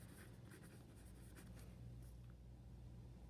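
Pen or pencil writing a prompt in a notebook, a steady close scratching that runs without pause under a low background hum.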